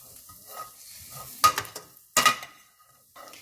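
An onion mix with crushed black pepper sizzles quietly in a pan while being stirred for shahi paneer. Two clear bursts of spoon scraping stand out, set apart by quieter frying.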